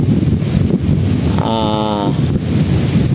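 Steady wind blowing across the microphone at a cold, windy campsite, rumbling and constant throughout, with a brief higher tonal sound in the middle.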